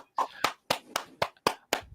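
A person claps their hands about seven times in an even rhythm, close and crisp, with short silences between the claps.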